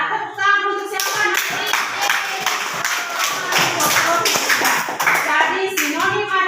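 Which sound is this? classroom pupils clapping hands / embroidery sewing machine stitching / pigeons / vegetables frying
classroom pupils clapping hands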